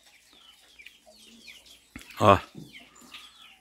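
A hen with her chicks on a farm gives a loud, brief clucking burst near the middle, with faint bird chirps before it and someone speaking briefly.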